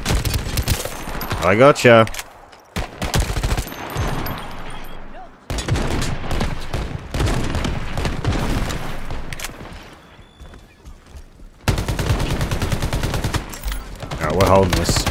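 Bursts of rapid submachine-gun fire in the shooter Shatterline, loud and close, stuttering in several volleys with short pauses, while a player talks over the shooting.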